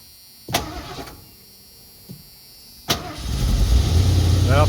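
Ignition of a 1990 Ford campervan turned with the key: a couple of sharp clicks, then the starter cranks and the engine catches into a rough, rising rumble, close by, with voices briefly audible.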